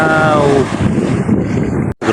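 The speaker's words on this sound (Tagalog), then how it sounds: "ay lakas po ng alon" Strong ocean waves breaking on a beach at Anilaw, roaring loudly and steadily for about two seconds under heavy wind buffeting on the microphone, with a brief dropout near the end.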